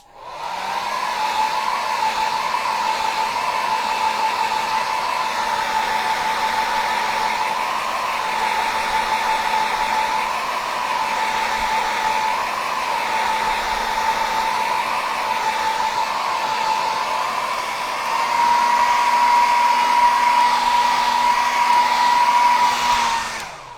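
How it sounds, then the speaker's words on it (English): Blow dryer running on its cool setting, a steady loud whir with a constant tonal whine that holds for the whole stretch and gets slightly louder near the end before switching off. "So let me grab my blow dryer."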